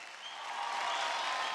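A TV dance show studio audience claps, a dense, even wash of applause that builds slightly and holds steady through the short moment.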